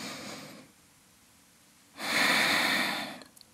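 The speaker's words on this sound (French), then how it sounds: "Et on respire ici. 3 grandes respirations." Deep breaths during a yoga core-strengthening session: a long soft exhale near the start, a pause, then a louder, fuller breath, close and alone without talk.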